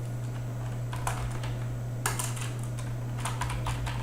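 Typing a site title on a computer keyboard, scattered light key clicks in short bursts over a steady low electrical hum.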